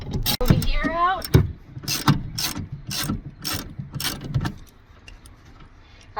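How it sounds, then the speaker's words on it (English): A hand ratchet with a 1/2-inch socket unbolts the rear seat bolts of a Dodge Ram 1500 truck, giving a few bursts of rapid clicking with short pauses between them, close up, with a person speaking briefly at the start. "we got the 1/2-inch socket, and we're going to go ahead and unbolt these"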